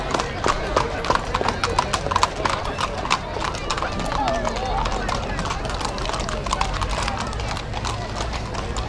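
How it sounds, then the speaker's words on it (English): Horses pulling carts and carriages in a vintage parade in Birr clip-clop past close by in a dense, overlapping stream of hoof strikes, with a whinny and a faint crowd in the background. "we're just going to let the horses go by so we don't frighten them"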